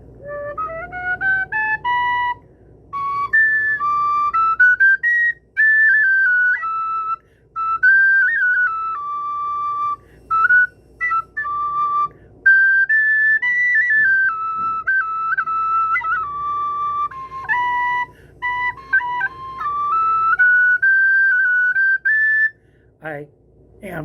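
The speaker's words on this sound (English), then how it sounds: "Penny whistle, flute with 6 holes." An Irish penny whistle, a six-hole flute, plays a lively melody of bright, breathy notes with quick ornaments and short pauses, close and loud throughout with no talking.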